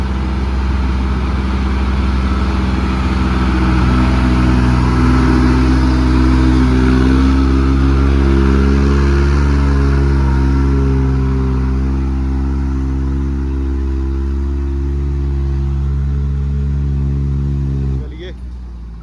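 A tractor engine, John Deere or New Holland, working a field at night, gives a loud, steady low rumble with strong harmonic drone close by, the pitch easing slightly before it cuts off near the end.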